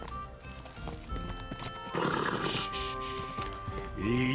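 A horse whinnies loudly amid game sounds and hoofbeats in the video game Kingdom Come: Deliverance II, with a second shorter neigh near the end over a busy background.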